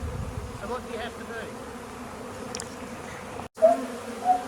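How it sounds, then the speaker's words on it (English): A honeybee swarm clustered on a branch about a metre up gives a continuous close, low buzzing drone, with a brief gap and a few louder passes near the end. "I haven't had one of my hives swarm before"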